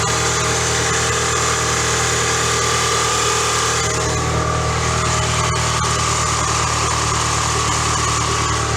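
Chrysler PT Cruiser engine idling steadily and close after a timing belt and motor mount replacement, a continuous even hum with a faint rattle, no talking.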